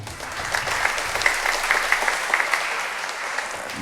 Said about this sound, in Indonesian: Tepuk tangan untuk mereka dong